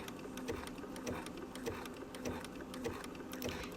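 A sewing machine zigzag-stitching around the edge of a fabric appliqué turkey, steady rapid needle clatter close up at an even rhythm with no talking.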